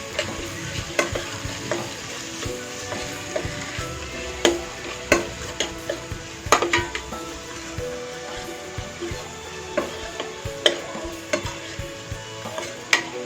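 Malvani masala and red chilli powder sauté in a pan for a spicy kalav (clam) masala, a steady low sizzle broken by regular scraping clicks of a stirring spoon against the pan.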